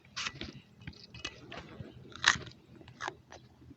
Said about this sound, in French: Je consomme tout simplement cette racine qui va me donner de l'énergie